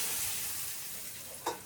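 Spices such as cumin, asafoetida, curry leaves and turmeric sizzle steadily in hot oil for a Gujarati tempering, a close, continuous frying hiss with a brief louder crackle near the end.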